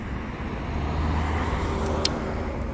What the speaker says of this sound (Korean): 이 차 소리가 이렇게 반가울 수가 없어요